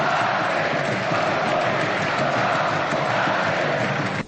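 A dense roar of Corinthians football fans protesting in a stadium after a match, chanting and shouting together continuously, loud and unbroken throughout.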